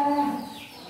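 A Simmental bull lows with a sustained, fairly loud moo that gradually fades, followed by a brief thump or rustle at the very end.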